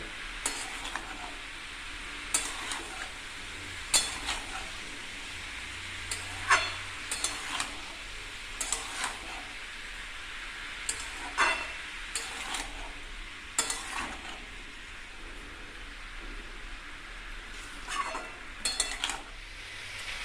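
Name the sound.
stirring shukto vegetables cooking in pan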